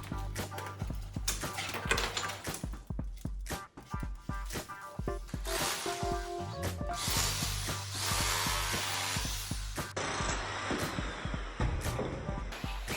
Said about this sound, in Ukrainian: Тут потрібно зрізати відкоси і розширити дверний отвір.